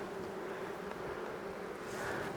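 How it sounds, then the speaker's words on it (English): Honey bees buzz steadily around a hive during a beekeeping inspection, a dense continuous hum close by with no voices. "See if I can get these bees to go"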